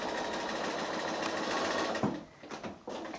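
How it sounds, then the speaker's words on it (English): A sewing machine runs steadily, stitching a quilt block seam along a marked line with a shortened stitch length, then stops and gives a few brief bursts near the end; no talking. "I'm going to sew on that line all the way along, right out to the edge, past the edge of the block space"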